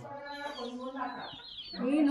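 Chickens cluck and call close by, with a rising squawk near the end over a steady outdoor background.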